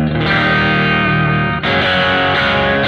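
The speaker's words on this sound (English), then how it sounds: "Bridge tones from a single coil on a Strat." Electric guitar played through a Line 6 Helix, a Strat's single-coil bridge pickup giving thick, distorted sustained chords that ring steadily, with a brief dip and a fresh strike about halfway through, loud and alone with no talking.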